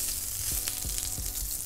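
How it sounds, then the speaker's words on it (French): Sausages sizzle and fry in a pan, a steady close hiss broken by a few soft thuds and pops as they are moved or stirred, with no voices. "Les saucisses sont en train de cuire."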